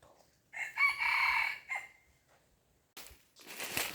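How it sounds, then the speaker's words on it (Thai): A rooster crows once in a forest at dawn, clear and fairly close, followed by a pause and brief bursts of rustling noise. "ไก่มันตื่นเขาแล้ว"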